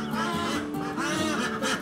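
Young fantail birds call near their nest, giving a steady, close run of raspy, nasal calls that overlap in quick succession.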